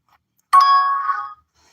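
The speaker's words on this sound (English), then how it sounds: "if you hear that noise, that chime or whatever on your end, that's a notification" A single short electronic notification chime, a bright bell-like tone that rings clearly for under a second and then fades into silence. It plays alone with no talk.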